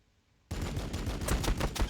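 Plasma guns firing in Warhammer 40,000: Battlesector during a Tyranids versus Blood Angels battle, a loud burst of rapid crackling shots that starts abruptly after a brief quiet moment.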